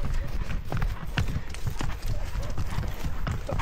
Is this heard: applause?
no